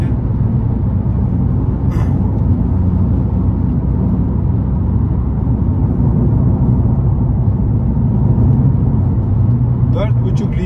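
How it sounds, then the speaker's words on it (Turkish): A car on a grooved road surface produces a steady, droning road rumble inside the cabin for the whole stretch, with someone talking over it. "yine bir yol sesi alıyor şu an araba. Yerde tırtıklı olmasıyla birlikte."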